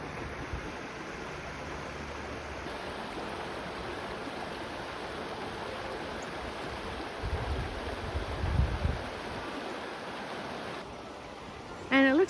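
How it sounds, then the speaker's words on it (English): Quittie Creek, a small creek along a nature trail, flows with a steady, even rush of water close by, joined briefly by low rumbling handling noise near the end. "This is Quittie Creek. Looks like a nice little creek."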